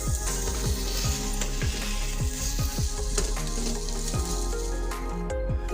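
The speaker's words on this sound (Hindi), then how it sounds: "अब इन सब मसालों को डालने के बाद मैं अच्छी तरह से फ्राई कर लेती हूँ।" Cumin and coriander powder frying in a pan for a potato and radish bhaji, a continuous loud sizzle with repeated rhythmic scraping strokes of a spatula stirring close by, no talk.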